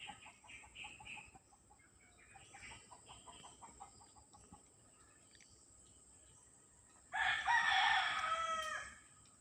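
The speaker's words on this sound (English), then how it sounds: "Hear the rooster." Rooster crows loudly and nearby near the end, following a quieter stretch of outdoor nature ambience with chirping birds and insects.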